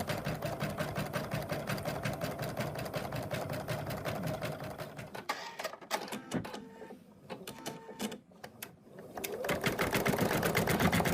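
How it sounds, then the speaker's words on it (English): An in-the-hoop embroidery machine stitches out the eye whites of a bunny design with a fast, steady mechanical chatter. The stitching is close and continuous, briefly thins and pauses midway, then resumes at full pace. "And then it's going to stitch out the white of the eyes."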